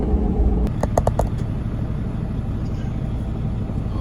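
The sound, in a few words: stuck truck being pulled out of mud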